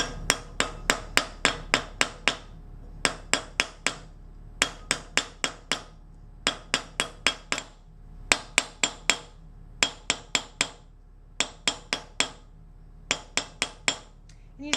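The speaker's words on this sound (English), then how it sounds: "I have overlapping blows, which is creating a rhythm to my hammering" Sharp metallic planishing hammer blows on metal over a mandrel, shaping a hollow ring, strike in quick, steady overlapping bursts of several hits, with short pauses between groups, close and clear with no talking.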